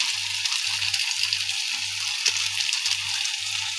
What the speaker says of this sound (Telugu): ఇది బాగా ఫ్రై అయిందండి